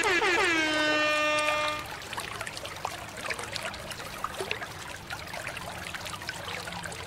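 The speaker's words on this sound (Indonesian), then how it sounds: "bebeknya sudah kita cuci ya" A brief toy horn blares first, then water trickles and splashes softly and steadily as a yellow and orange toy duck is washed close by.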